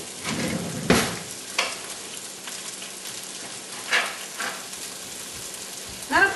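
Chicken fries in a little oil in a pan with a bright, steady sizzle close up, punctuated by occasional stirring scrapes and clatters.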